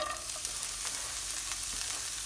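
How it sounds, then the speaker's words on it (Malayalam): Cabbage leaves and onion sautéing in hot oil for a mixed leaf thoran give a steady, close frying hiss with a few brief stirring scrapes, with no voices. "കാബേജിൻ്റെ ഇല ആദ്യം ഇടണേ, അതൊന്ന് വഴറ്റിയെടുക്കാം."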